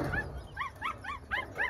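Working-dog puppies from a litter whimper and yip in a quick series of high, rising whines, close by and fairly loud, with no talking.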